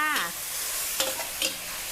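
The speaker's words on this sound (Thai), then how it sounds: "ใส่ต้นหอมหั่นท่อนค่ะลงไป คลุกเคล้าสองทีค่ะ" Tofu stir-fried with cut green onions in a pan, a quick burst of sizzling followed by two short scraping stirs of the spatula, close and fairly loud.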